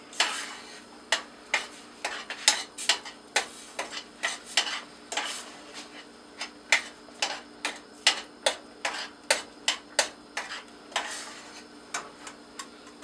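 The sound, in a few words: carrots being sautéed in a pan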